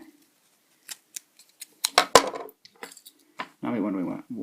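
Close scissor snips and crisp crackling cuts through cardboard come in short bursts, followed by a brief murmur of a voice at the end.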